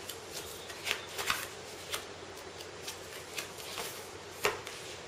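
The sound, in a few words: dealing new King of Tokyo cards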